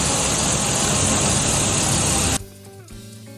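An excavator engine gives a loud, dense, steady roar that cuts off abruptly, leaving a quieter tail with a faint tonal hum.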